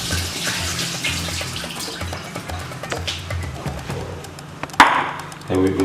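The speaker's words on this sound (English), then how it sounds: "What you need to do is to strain the water out of the chips." Water rushes and splashes steadily as it drains from chips through a strainer, with a sharp metallic clatter near the end and kitchen noise behind.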